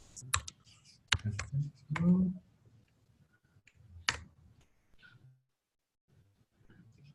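Sharp, scattered clicks of typing on a computer keyboard come in short bursts between pauses, close by, with a voice speaking faintly in between.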